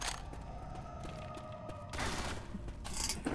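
A Tommy gun fires in the zombie shooter Left 4 Dead, starting a little past the midpoint and running as a sustained, moderately loud burst over a low background hum.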